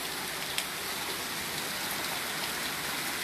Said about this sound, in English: Rain slacked up.